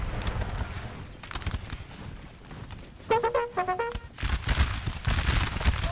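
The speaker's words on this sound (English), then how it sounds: "Let's have a volley from the Swedes." Musket volley from Swedish line infantry in the Napoleon Total War video game, a ragged crackle of many shots over rumbling battle noise, with a short bugle-like musical phrase midway and a denser burst of firing afterward.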